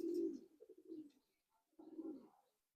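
Soft, low cooing of old-breed Andra and Madrasi tournament flying pigeons, two short bouts separated by a brief pause, faint and close in a quiet setting.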